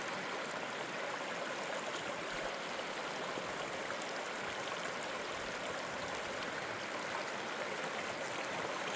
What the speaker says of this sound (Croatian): a tamo je rijeka koja piči